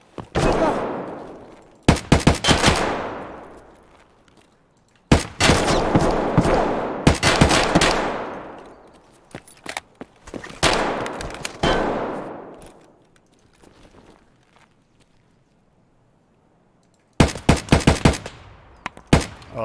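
Escape from Tarkov gunfire comes in several loud automatic bursts and rapid strings of shots, separated by short quiet gaps, each trailing off with a ringing tail.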